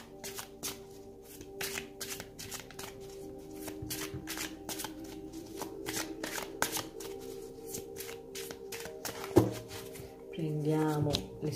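Tarot cards shuffled and handled by hand, a long run of quick rhythmic riffling flicks, close and clear, with some soft handling noise near the end.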